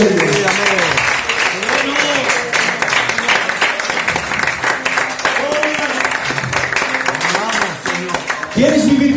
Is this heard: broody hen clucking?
no